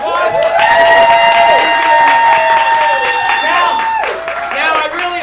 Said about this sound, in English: Give Joanne a big round of applause.